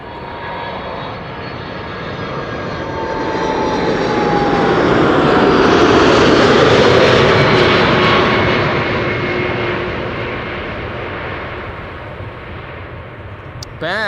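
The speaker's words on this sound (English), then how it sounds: "Loud bouncy landing there of the main gear." An Atlas Air cargo airplane lands at Amsterdam Schiphol, its engine roar swelling to a loud peak as it passes close and then fading, ending in a sharp thump from the main gear touching down.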